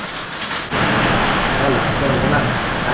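Heavy rain pours down in a garden during a thunderstorm, a loud wide hiss that swells suddenly and then stays constant and close, with a low rumble underneath.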